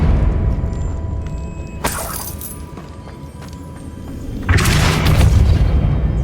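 Depulso spell blasts in Hogwarts Legacy on PS5, heard as two heavy booming impacts a few seconds apart, each with a crashing, shattering burst over a low rumbling game ambience.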